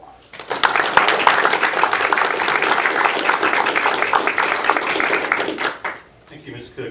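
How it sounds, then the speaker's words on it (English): Audience applause at a school board meeting, honoring the board, starting abruptly, holding steady for about five seconds with crisp individual claps, then tapering off as a voice begins. "Let's give them a round of applause."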